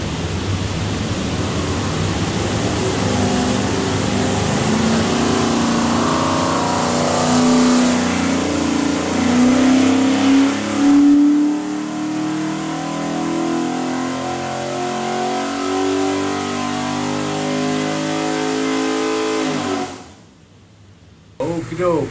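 Stack-injected 427 small block Ford V8 with Holley Terminator X fuel management revving up on an engine dyno, a loud rising roar that climbs steadily, holds, then cuts off abruptly near the end.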